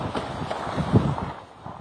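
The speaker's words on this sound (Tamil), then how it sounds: "இந்த காற்று மிகுந்த பலத்துடன் தற்போது வேகமாக வீசி" Strong cyclone wind buffets the microphone at Mahabalipuram beach during Cyclone Fengal, a loud continuous roar with gusty surges and a sharp thump midway.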